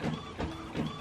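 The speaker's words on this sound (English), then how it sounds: "I'm just printing the bills of the post office." An Epson WF-3620 inkjet printer prints, its carriage whirring back and forth in three quick sweeping passes, close and fairly quiet.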